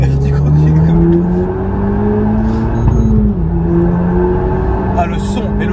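A car engine revs while driving, a loud, close engine note rising and falling in pitch as it accelerates, with people talking over it inside the car.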